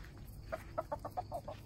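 American gray stag rooster, a frost gray, clucking in a quick series of short calls on a farm, moderately near, with no talking over it.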